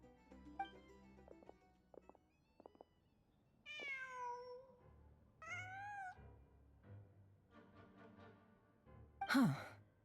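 A cat in a video game gives several distinct meows with clear rising and falling tones, set against quiet ambient game sound, followed by a brief sharp louder cry near the end.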